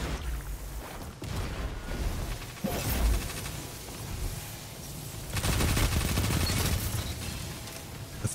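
Submachine gun duel in Destiny 2 Iron Banner, with rapid bursts of automatic fire, booming impacts and whooshes crowding together in a loud, dense exchange.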